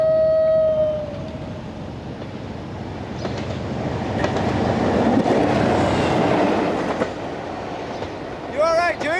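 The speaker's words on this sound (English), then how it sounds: "There's a train coming." A train rumbles past on the railway track, rising to a loud broad roar in the middle and easing off, with a short horn-like tone at the start and a voice briefly at the end.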